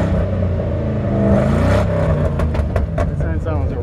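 A 1955 Ford F100 pickup's engine accelerates hard from a stop, a steady loud roar with rising pitch, with a person talking over it.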